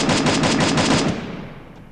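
Rapid automatic gunfire from Garena Free Fire during a ranked Clash Squad match, a loud, close burst of evenly spaced shots lasting about a second before tailing off into a fading echo.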